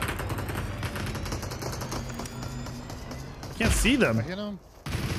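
Rapid gunfire in the Super People battle royale game rattles under a talking player, with a louder burst of shots near the end.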